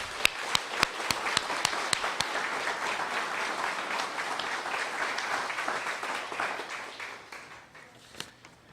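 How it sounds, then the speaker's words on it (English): A crowd at a fire hall's 75th anniversary celebration and community picnic claps, with a few loud individual claps standing out near the start before the applause thins and tapers off. "I'd like to give a round of applause for all these people who volunteer their time."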